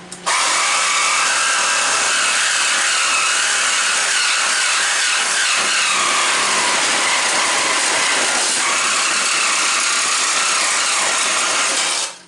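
A loud power tool cuts steadily through the tank of a scrapped coffee machine. The harsh whine holds almost unbroken for about twelve seconds and shifts only slightly in pitch, with no talking.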